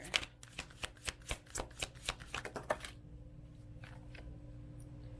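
Tarot cards are shuffled by hand in a quick series of crisp riffling snaps and taps, close and fairly quiet, then the handling stops and only faint room tone remains.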